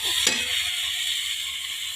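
Ground onion, garlic, chilli and coriander paste goes into a pan of dry mutton cooking over a wood-fired clay stove, giving a brief clunk followed by a steady, even sizzling hiss.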